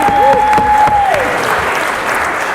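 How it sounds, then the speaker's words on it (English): Wedding guests give a round of applause for the bride, a loud burst of clapping that swells and holds while a brief sustained tone rings over the start. "Can we please have a round of applause for the bride?"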